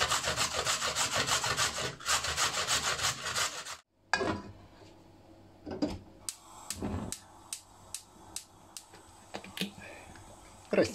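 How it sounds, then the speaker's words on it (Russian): Carrot is rubbed on a coarse grater, first in fast continuous rasping strokes, then after a brief pause in slower separate scrapes, close and fairly quiet. "Натираем одну морковь на крупной терке."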